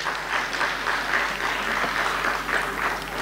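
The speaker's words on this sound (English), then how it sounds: "Let's have a round of applause" A hall audience applauds as classical Indian music and dance artists are welcomed at a festival stage, a thick, steady round of clapping that stays level throughout.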